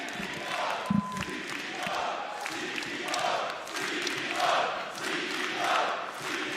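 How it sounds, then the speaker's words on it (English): A large esports arena crowd at a live event cheers and roars steadily, a dense wash of voices swelling in repeated waves with no clear talk on top. "I need to hear the crowd go crazy."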